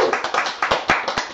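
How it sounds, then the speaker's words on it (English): A short burst of hand clapping from a small group, quick irregular claps close to the microphone. "big round of applause for Gavin"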